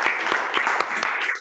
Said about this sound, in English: let's have a huge round of applause for all three